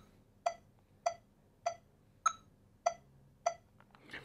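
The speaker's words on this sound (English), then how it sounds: "This is a small Korg metronome that I bought 20 years ago" Small Korg metronome ticking alone, six evenly spaced sharp clicks about 0.6 seconds apart, one accented slightly differently, with a faint rustle at the end.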